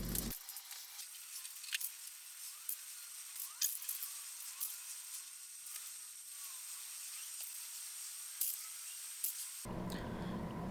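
Lacquer finish sprayed onto a painted laminate dresser, a quiet steady airy hiss with small bursts that runs for about ten seconds.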